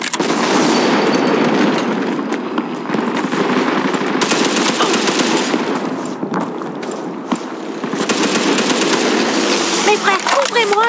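MG30 machine gun firing in the World War II shooter game World War Heroes, sustained loud rapid bursts with brief gaps, mixed with other battle noise and game voices.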